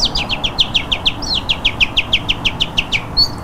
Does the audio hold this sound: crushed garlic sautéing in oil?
no